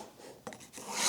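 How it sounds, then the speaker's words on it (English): A pencil or marker scrapes across a wood blank along a straight edge, a short dry rubbing stroke followed by a second longer rasp, close and quiet. "take a straight edge, make a line from one edge to the other"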